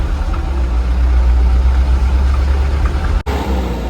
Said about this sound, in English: there happened to be a lorry crossing at the same time